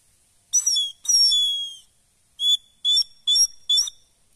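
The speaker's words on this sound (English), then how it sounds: "This was a bare bone, and I turned it into a whistle." A whistle carved from a bare bone is blown in a series of shrill, high-pitched toots: two longer blasts followed by four short bursts with brief pauses between them, close and clear.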